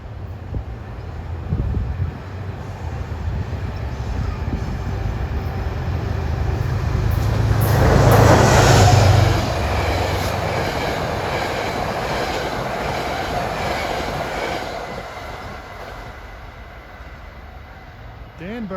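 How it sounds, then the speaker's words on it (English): A locomotive-powered rush-hour commuter train on the New Haven line, bound for Danbury, passes at Mamaroneck. Its low rumble builds to a loud peak midway, then fades slowly under steady wind noise. "One of several locomotive-powered rush hour trains to Danbury."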